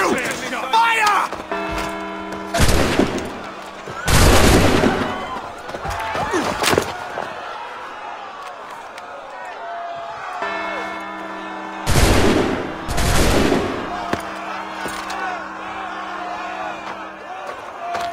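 Bursts of musket volleys in the Assassin's Creed 3 video game, two loud broad blasts around a long pause, mixed with shouting voices and game music.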